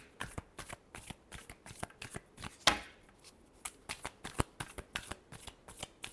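Tarot cards being shuffled by hand in a rapid run of crisp riffling slaps, close and alone, with one louder burst near the middle.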